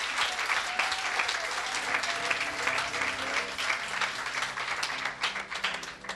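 A church congregation applauds, a dense, sustained wash of many hands clapping that stays loud and even before thinning slightly at the end, with faint voices mixed in.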